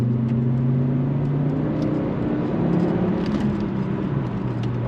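A 28-year-old Volvo 850R accelerates gently, its engine note rising and then settling into a steady drone with road noise, close and continuous.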